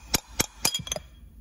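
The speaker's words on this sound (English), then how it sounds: "Give it just another couple taps" Four sharp metallic taps on the crankshaft of a two-stroke engine being removed from its case half, evenly spaced, close and crisp, with no talking.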